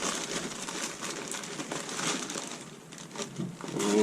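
Shopee mystery box package being unboxed, with steady crinkling and rustling of plastic wrapping close to the microphone, continuous over a few seconds with no talk.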